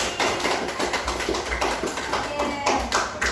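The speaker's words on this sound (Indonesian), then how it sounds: "tepuk tangan untuk semua kelompok yang sangat bagus acaranya hari ini" Classroom applause for student groups at the end of their presentations in a school religion lesson, a dense run of close, rhythmic hand claps with voices talking through it.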